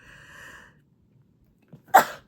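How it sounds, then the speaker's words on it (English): A single loud, close sneeze bursts out near the end, after a soft intake of breath and a brief faint tone at the start. "you're going to have to hear me sneeze"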